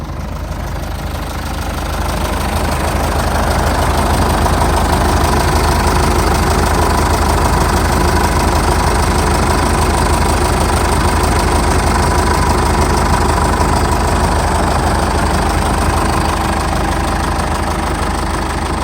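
A 2006 Jeep Liberty's turbocharged 2.8 CRD diesel engine idles steadily and close by, a constant low rumble with a faint knocking texture that holds unchanged throughout, with no voices.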